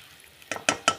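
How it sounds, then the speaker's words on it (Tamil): Egg gravy simmering in a pan and being stirred, with three distinct scraping, bubbling stirs following a quiet start, close and fairly soft. "ஒரு நிமிஷம் நல்லா கொதிக்க விடுங்க."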